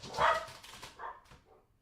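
Dogs bark indoors in a short burst, one sharp loud bark followed by a couple of softer, shorter yips that fade away.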